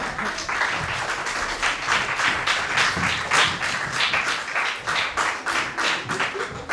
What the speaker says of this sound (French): Vous pouvez y aller, on peut l'applaudir.